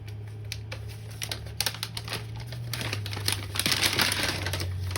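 Stiff sheet of paper, a Bachmann N scale locomotive parts diagram, unfolded and crinkled close by in irregular crackling bursts that build toward the end, over a steady low hum, with no talking.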